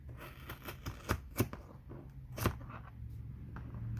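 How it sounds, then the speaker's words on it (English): Irregular crisp snips and clicks of scissors cutting, several sharp strokes scattered across a quiet background. "I'm going to grab my bigger scissors for this."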